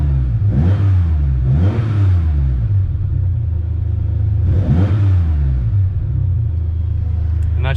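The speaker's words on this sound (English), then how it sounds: "Just sitting here stationary, got it revving a whole lot cleaner now." An air-cooled Porsche 911 engine with individual throttle bodies and MegaSquirt tuning, stationary and free-revving: three sharp rising revs climbing from a deep idle rumble and falling back, loud and close.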